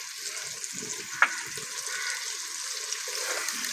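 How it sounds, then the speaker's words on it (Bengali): Eggs fry and are stirred into a spice masala for a dhaba-style egg chicken tadka, making a steady close sizzling hiss with one sharp utensil click partway through and no speech. "ডিমটাকে ভালো করে ভেজে নিচ্ছি মশলার সঙ্গে"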